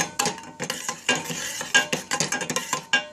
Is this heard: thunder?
no